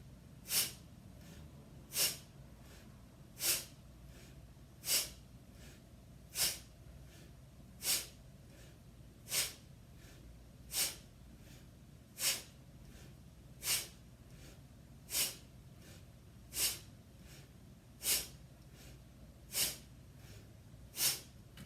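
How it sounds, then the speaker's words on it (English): Slow, deep breaths during a breathing exercise, each one a soft, even rush of air repeating about every one and a half seconds, close and quiet, with nothing else heard. "Breathe in and exhale."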